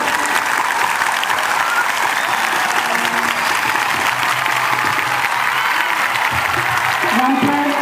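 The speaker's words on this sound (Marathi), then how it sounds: "शाळेचे आजी विद्यार्थी जास्त जोरात टाळ्या वाजवतात" Students clap together at a school book-worship ceremony, a dense, steady wash of applause filling the hall throughout, with faint voices mixed underneath.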